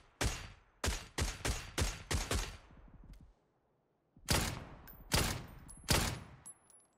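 Gunfire in PUBG on console: a rapid burst of about seven loud, sharp shots, a short silence, then three or four more spaced shots, each with a quick decay and no voices.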